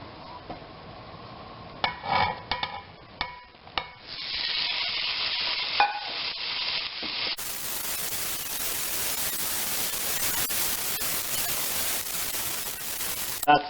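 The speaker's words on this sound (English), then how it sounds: "cooking bacon and rendering the fat in a fry pan" A full pound of bacon fries in a fry pan with rendering fat, giving a steady loud sizzle that swells partway through, with a few scrapes and stirring clinks early on and no talk.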